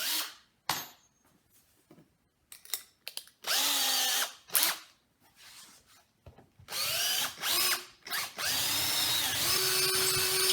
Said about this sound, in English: I'm going to start with a smaller drill bit and work my way bigger